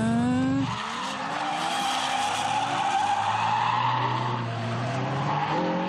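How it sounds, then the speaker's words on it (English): A car drifts around a corner with its tires skidding in a long, loud squeal over the engine's roar, sustained for several seconds. "Put a lot of speed and step on the brake and turn the handle. The back end will stick out and you drift."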